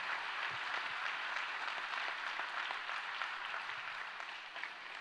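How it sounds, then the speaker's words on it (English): Distant, soft applause from a gathered community audience at a forum on the Red Hill water crisis, a steady wash of clapping that fades slightly near the end. "So how about a round of applause for everyone here today?"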